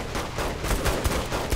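Rapid bursts of burst-fire gunfire in Saints Row: The Third, loud and dense, cracking in quick clusters with little pause, no talk over it.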